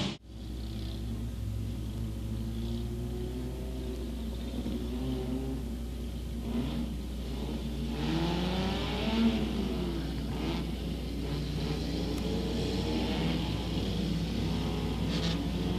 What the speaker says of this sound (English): One more lap to go for Jason Griffith in the 98